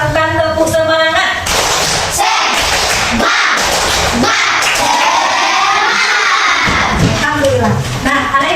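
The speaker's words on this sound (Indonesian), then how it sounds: "Coba kita lakukan tepuk semangat." Classroom of schoolchildren performing the 'tepuk semangat' clapping chant, loud rhythmic group clapping mixed with shouted chanting voices, bursts of claps alternating with collective shouts, close and energetic throughout.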